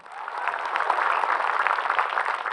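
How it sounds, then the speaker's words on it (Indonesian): An audience at an Islamic religious talk applauds to welcome a preacher to the stage: brief, dense, steady clapping from a crowd, fairly even in loudness, with no speech over it. "Tepuk tangan buat Ustaz Cecep"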